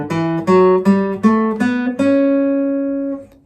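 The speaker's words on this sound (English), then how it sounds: "The traditional major scale you'll learn in school sounds like this." A traditional seven-note major scale played step by step on a sustained, tuner-clean instrument, each note ringing clearly and the final tone held long before fading, with no voices.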